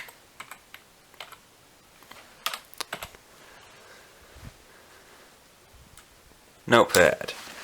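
Keys pressed one by one on a small Asus EeePC touchscreen laptop keyboard, some of them faulty: scattered sharp plastic clicks, isolated taps, then a short burst of rapid presses at the end, with brief talking.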